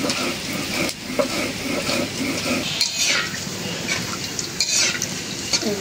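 Dry red chilies and whole cumin frying in hot oil in a home kitchen pan, a steady close sizzle broken by scraping stirs and light clinks of a spatula against the pot.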